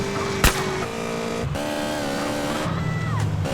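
A car speeds past in GTA San Andreas, a steady engine roar with a sharp crack early on and a shifting pitch as it goes by, with no talk.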